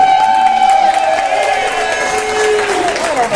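An audience claps and cheers at an evening event, with loud sustained voices and whoops over the applause, close and lively throughout.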